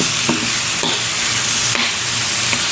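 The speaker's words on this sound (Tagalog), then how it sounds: "Halo-haloy lang natin hanggang sa malambot." Chicken frying in a hot pan and being stirred, a loud continuous sizzle close up with periodic scraping knocks of the utensil against the pan about once a second.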